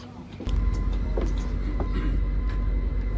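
A steady low rumble of a Jungfrau Railway train climbing in the Swiss Alps toward Jungfraujoch, with faint clatters and squeaks over the continuous drone.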